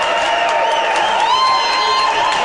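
Hockey crowd at a Steamboat Sailors versus Aspen game roaring and cheering after a big hit on the ice, a steady, full rink-wide cheer with whoops layered through it.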